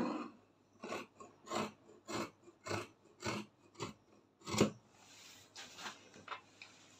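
Scissors cut fabric for a halter neck flare gown, about a dozen crisp, evenly spaced snips close to the microphone, each a short rasping cut in a quiet room.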